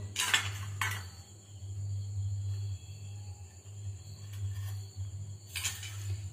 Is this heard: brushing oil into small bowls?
yes